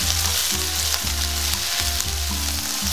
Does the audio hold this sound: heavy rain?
no